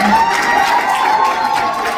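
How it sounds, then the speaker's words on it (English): An audience at a fan convention cheers and applauds a cosplayer, a brief, steady wash of crowd noise with whoops and shouts. "Everybody give a round of applause for Aiden as Nico D'Angelo from Percy Jackson"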